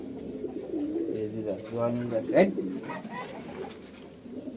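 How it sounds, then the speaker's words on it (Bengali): Racing pigeons coo close by in a low, rolling murmur, with a few louder coos rising midway while someone talks over them. "আমার যে কবুতরগুলো আসছিল ভিতরে"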